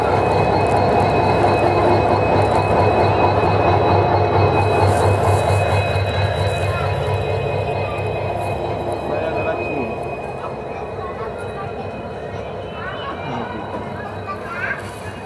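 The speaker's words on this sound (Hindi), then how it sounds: "लेकिन पता नहीं अभी भी डीजल लोकोमोटिव यहाँ पे यूज़ हो रहा" WDP 4B diesel locomotive hauling the Shirdi–Mysuru Express, a steady loud rumble of engine and rolling wagons that eases slightly after ten seconds, with some talk at times.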